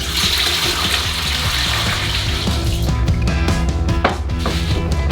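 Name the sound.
water being poured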